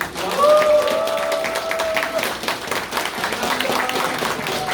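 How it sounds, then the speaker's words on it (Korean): Audience applause closing a Korean political talk event in Jeju, a dense steady patter of clapping mixed with crowd noise and some voices, loud and sustained throughout. "큰 박수로 마무리하겠습니다."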